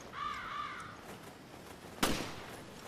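Crows caw twice in Resident Evil Revelations, a harsh doubled call early on against a dark ambient game bed, followed by a sudden loud broadband burst near the end.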